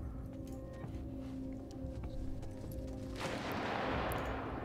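Gunfire in the war survival video game This War of Mine, a few sharp distant shots under a steady droning game ambience, with a hissing noise swelling in toward the end.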